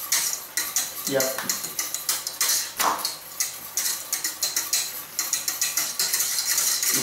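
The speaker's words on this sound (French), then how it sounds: "et je commence fouetter" A whisk beats egg yolk in a metal bowl for a mandarin sauce, a fast, steady clicking and scraping rhythm that runs throughout, while a voice speaks briefly.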